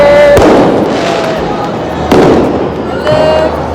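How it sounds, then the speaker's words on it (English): Fireworks burst over Budapest on New Year's Eve, with several loud booming explosions and crackling whistles sounding over continuous crowd noise and background chatter. "Fireworks."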